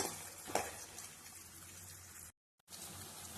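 Onion pieces fry in a pan for an Andhra-style fish curry, making a soft, steady sizzle up close that drops out briefly to silence before resuming.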